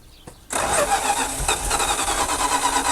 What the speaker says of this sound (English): Okay, go ahead and crank it off.